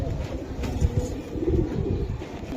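A pair of silver Giribaz pigeons cooing close by in soft, low, repeated throaty coos over a faint background hum, with no talking.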